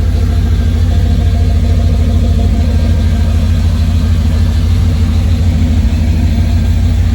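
A 1991 GMC truck's heavy engine idles steadily through a deep exhaust, a loud, continuous low rumble up close with no change in pace.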